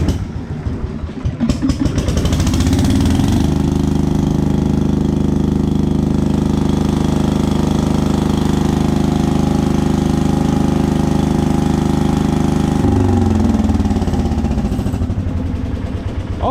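An old International 300 tractor engine cranks and catches, then runs with the carburetor choke fully on, a loud, steady, close-up throbbing idle that holds for over ten seconds before its note shifts and settles.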